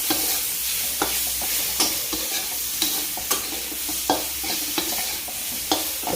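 Chopped tomatoes sauté in hot oil tempering for a spicy brinjal vegetable dish, a steady sizzle punctuated by regular, distinct spatula strokes against the pan, with no one speaking.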